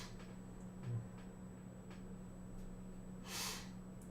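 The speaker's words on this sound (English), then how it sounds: "I still got the sniffles." A person sniffles with a cold, making one sharp nasal sniff near the end and a softer breath earlier, close and quiet over a faint steady hum.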